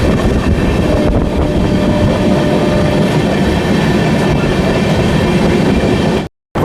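An Amrit Bharat Express running through a station sends up a loud, steady rumble of wheels and carriages close by, with a faint rhythmic clatter, before cutting off abruptly at the end.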